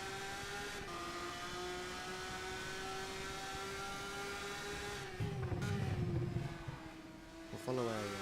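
Race car engine in the rFactor 2 racing game at Macau, a steady high engine whine along a straight, then a rougher burst and downshifts toward a corner, faint overall.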